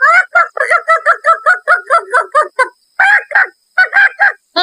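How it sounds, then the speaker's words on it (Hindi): A loud, close rooster call in a cartoon, rapid repeated squawks, then a pause and a few more bursts. "कुछ देर बाद राहुल एक मुर्गे में बदल जाता है।"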